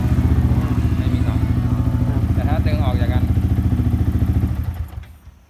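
A Yamaha R15 motorcycle engine idles close by with a steady, rapid thumping pulse, then dies away near the end as the engine shuts off; someone talks over it.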